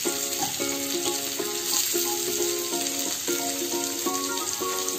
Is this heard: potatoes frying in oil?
yes